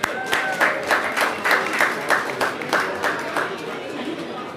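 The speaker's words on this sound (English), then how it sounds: "So clap yourself, Guyanese." Guyanese audience at a Guyana Republic Golden Jubilee celebration applauds, with rhythmic bursts of clapping pulsing steadily over crowd murmur and cheers, moderately loud throughout.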